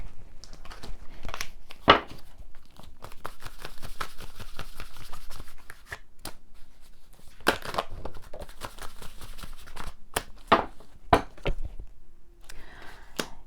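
Tarot cards are drawn and handled during a reading: soft crinkles, shuffles and flicks of card stock come close by in scattered bursts, with a few sharper snaps, and no speech.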